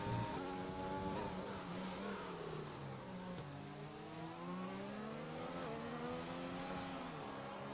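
Race car engine in an F1 racing video game at the Australian Grand Prix, a loud sustained whine with shifting revs and gear changes, engine pitch dipping and climbing as the car brakes and accelerates, no talk.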